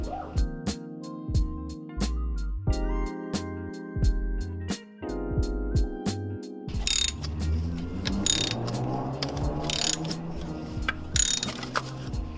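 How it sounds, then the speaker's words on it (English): A ratchet with an E12 socket works a bolt loose during an N54 high-pressure fuel pump replacement, giving close, rapid mechanical clicking in steady runs, followed by harsher metallic scraping and bursts. "you're gonna need an E12 to remove a bolt down here"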